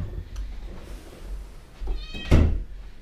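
A cat in an empty, broom-clean rental unit gives a clear, close meow, followed by a loud thunk like a cupboard or door; no talk.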